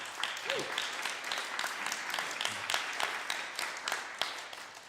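An audience at an International Dance Week evening event gives a round of applause, a steady wash of many hands clapping at moderate distance, with a brief voice rising faintly underneath.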